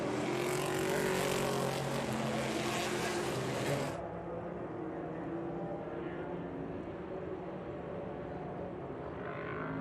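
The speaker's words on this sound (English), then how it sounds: "This is that beautiful sound of the Greenwood Corvette from 1976, beautifully painted." A 1976 Greenwood Corvette race car at speed in qualifying, its engine a loud, bright roar that drops suddenly to a duller, more distant drone partway through and carries on steadily.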